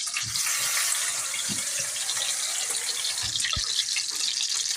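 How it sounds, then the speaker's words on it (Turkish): Tap water runs steadily into a sink while bulgur is washed for a bulgur pilaf with goosefoot greens, a continuous broadband rush with a few low thumps and splashes from handling the grain, fairly close and with no talk. "Bulgurumu ben yıkayayım."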